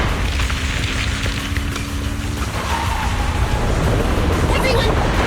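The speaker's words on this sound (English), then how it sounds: "The ground's shaking!" A deep ground-shaking rumble and booming impact in the action game Zenless Zone Zero, a loud sustained low roar with a faint tonal hum fading partway through, continuing steadily throughout.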